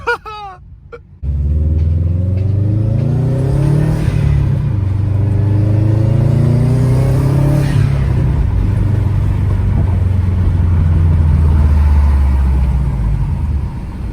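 A car engine fitted with a Cobb Stage 1+ tune, its intake note loud and close as it accelerates through rising and falling revs, a steady rumbling drone that starts abruptly and holds throughout.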